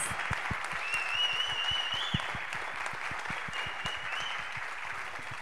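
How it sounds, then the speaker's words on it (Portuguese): An audience at a rap book-club event applauds four guest speakers, with sustained crowd clapping, sharp individual claps standing out, and shrill whistles rising over the ovation. "E uma salva de palmas para essas quatro pessoas."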